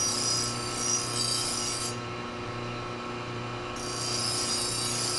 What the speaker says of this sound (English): this grease buffer will even put a little bit more of a fine edge to it